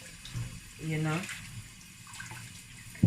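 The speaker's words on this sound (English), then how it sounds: "So you just want to make sure you rinse it properly." Running water splashes as peeled beans for akara are rinsed in a bowl, a short close watery burst amid faint background, with a voice speaking over it.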